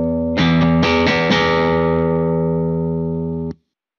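Electric guitar played through a clean normal signal, a few strummed chords struck in quick succession and left ringing before being cut off abruptly, alone with no talking.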